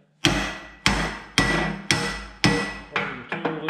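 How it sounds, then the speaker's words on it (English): A small hammer taps a pin set in an H&L Pin Caddy tool, giving six sharp, evenly spaced metallic strikes that each ring out briefly, followed by a few quicker lighter taps, close and loud. "and then there's a little hammer"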